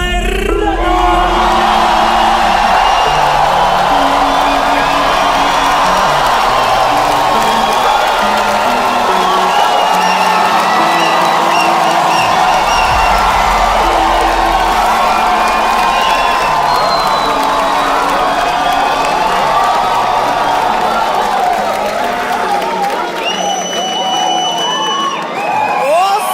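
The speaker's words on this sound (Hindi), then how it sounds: "एक बार जोरदार ताली बजा दो सबके लिए भाई." A live comedy-show audience cheers, whoops and applauds loudly for a comedian in one continuous roar, with shouts and whistles rising over sustained clapping from a large crowd.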